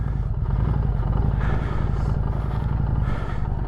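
A motorcycle idles with a steady low engine rumble and then pulls away slowly in first gear, the note staying even and close with no talk over it.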